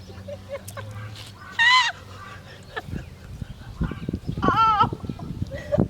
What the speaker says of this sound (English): Oh, yeah, bird.